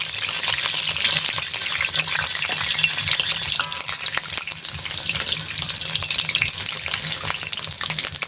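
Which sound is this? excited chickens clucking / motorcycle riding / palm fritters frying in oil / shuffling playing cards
palm fritters frying in oil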